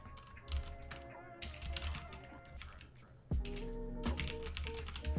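Typing on a computer keyboard, rapid irregular key clicks close up over a low background hum, with a brief pause before the typing resumes.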